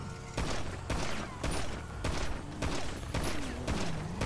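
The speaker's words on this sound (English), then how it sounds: "The fuck is the chain gang shooting at us for?" Gunfire in the GTA 5 RP video game comes as repeated loud bursts at roughly half-second intervals, a rapid rhythmic volley with little talk.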